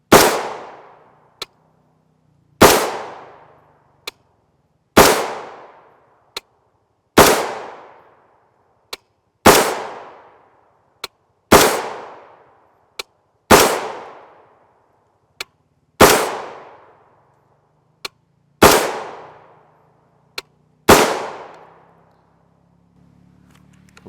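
Rifle shots of 5.56 NATO M193 55-grain FMJ Fiocchi rounds fired at an outdoor range over a light screen chronograph: ten sharp, loud reports spaced about two seconds apart, each ringing out briefly, with faint metallic clicks between.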